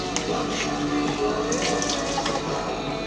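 Tap water runs steadily into a kitchen sink while about two kilos of beef for a pot roast is washed, a continuous close splashing rush with faint clinks and no talk.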